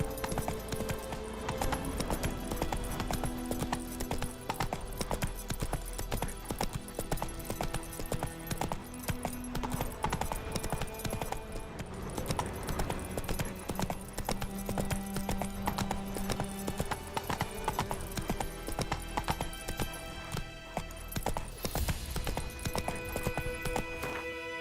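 Roach the horse trots in the Witcher 3 video game, with rhythmic hoof clip-clops running steadily under a dense bed of game music and ambience throughout.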